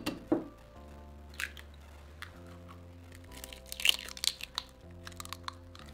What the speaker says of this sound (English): So crack 2 eggs into a bowl or a cup.